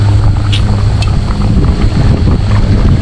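Loud, constant wind roars across the microphone at a campsite, a heavy low buffeting with no letup and a few faint clicks in the background.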